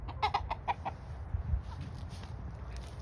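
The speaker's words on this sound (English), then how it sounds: "just the chickens eating" Chickens feeding on mice and chipmunks, giving a few soft clucks and pecking sounds near at hand, with low rustling and background noise running underneath.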